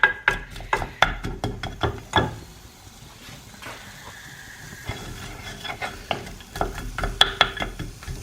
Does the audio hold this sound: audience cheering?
no